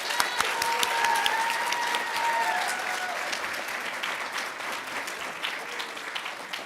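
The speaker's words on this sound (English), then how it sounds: "give yourselves once again a round of applause" Sustained audience applause fills a hall at a nursing school fall pinning ceremony, a dense steady patter of many hands holding at even loudness throughout, with faint whistles and cheers rising above it early on.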